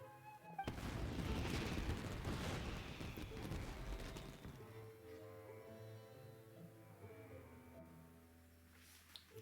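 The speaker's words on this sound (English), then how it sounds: "Yoimiya, this is turning into a bit of a fireworks display" Fireworks exploding outdoors in the video game Genshin Impact, a dense crackling burst of booms for several seconds that fades into softer fizzling and a lingering ringing tone.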